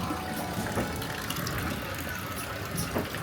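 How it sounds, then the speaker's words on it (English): Small artificial waterfalls in Mungo's Adventure Maze at Drusillas give a steady, continuous splash and trickle, close and moderately loud, with some clicking mechanical noise mixed in throughout. "So we've got the little waterfalls."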